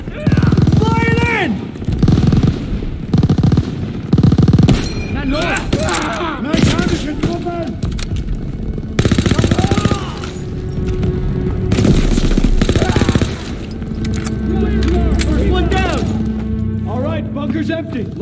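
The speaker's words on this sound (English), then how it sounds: "MGs are still sweeping the beach!" Machine guns sweep a beach in the Call of Duty WW2 game, with loud bursts of automatic fire and booming explosions mixed with shouting soldiers and battle chatter throughout.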